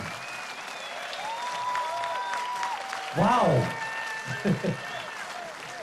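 Audience applause for the St. Stephan youth choir at the Kölner Lichter event at the Tanzbrunnen in Cologne: a steady wash of clapping throughout, with a nearby voice exclaiming briefly and some whistles above the crowd.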